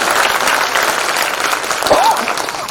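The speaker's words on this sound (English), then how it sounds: "audience, I request you to do a big round of applause for all of them here on stage" A loud, steady round of applause from an audience at an Indian Army national quiz semi-final, cheering the contestants on stage, with a faint voice briefly over the dense clapping.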